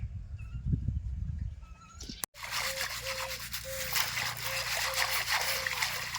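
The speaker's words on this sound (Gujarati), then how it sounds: "કુંડું ભરી દીધું મસ્ત સાફ કરીને" A clay water pot for birds is scrubbed clean and refilled outdoors, with a few soft knocks followed by loud, sustained splashing and rubbing of water close by.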